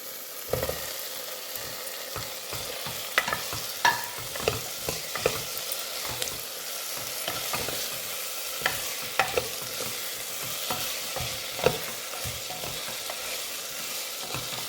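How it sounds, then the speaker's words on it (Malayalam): Potatoes are stirred into a sautéed tomato masala in a pan, producing a steady frying sizzle punctuated by frequent sharp spoon scrapes and knocks against the pan, close and fairly loud, with no voices. "തക്കാളിയെല്ലാം നന്നായിട്ട് വഴന്ന് വന്നിട്ടുണ്ട് ഇനി നമുക്കിതിലേക്ക് നമ്മൾ എടുത്തു വെച്ചിരിക്കുന്ന ഉരുളക്കിഴങ്ങ് കൂടി ഇട്ട് കൊടുക്കാം"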